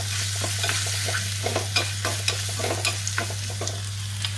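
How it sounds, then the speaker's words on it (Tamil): Curry leaves and garlic sautéing in hot oil in a pan, a steady low sizzle with repeated light scraping stir strokes, close and fairly quiet, no voices. "இதில் இந்த கருவேப்பிலை எடுத்த துணிக்கி வச்ச வெள்ளைப்பூண்டு இதை போட்டு லேசாக வதக்கி"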